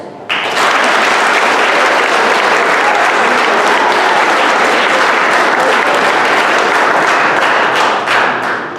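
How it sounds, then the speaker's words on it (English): A crowd at an undergraduate awards ceremony breaks into sustained, loud applause, dense clapping holding steady for several seconds before tapering at the end. "Round of applause."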